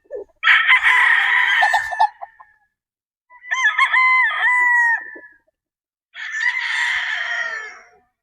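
A white muff gamefowl rooster crows three times in a row, loud and close, each call about two seconds long with short pauses between.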